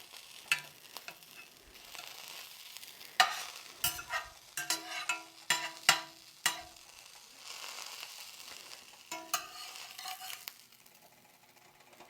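Grilled cheese sandwiches frying in bacon grease in a pan, with a soft sizzle under scattered sharp scrapes and clacks of a spatula, close and fairly loud, no voices.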